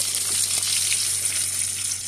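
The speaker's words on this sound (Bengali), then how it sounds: "মাছগুলো ভাজা হয়ে গিয়েছে" Fish fry in hot oil, giving a dense, bright, steady sizzle that is close and continuous, with no talk.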